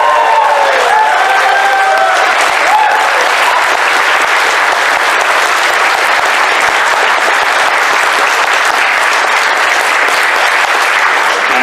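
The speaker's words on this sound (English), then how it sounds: "can we have a massive, massive round of applause for the TFN crew who do this every day?" A large crowd gives a loud, sustained round of applause for the TFN crew at a live podcast event, dense steady clapping with a few cheers that holds for the whole stretch.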